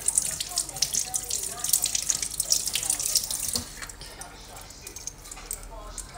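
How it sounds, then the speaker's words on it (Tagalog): Hands being washed under a running kitchen tap, a steady close hiss of water splashing into a sink with small drips, and a voice speaking briefly over it. "hugas muna tayo ng kamay"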